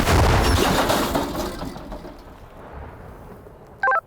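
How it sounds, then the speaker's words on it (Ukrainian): An artillery cannon fires near Bakhmut with one loud, deep boom at the start that rolls and fades into a long rumbling echo over a few seconds, followed by a brief, sharp tonal click near the end. "Гармата."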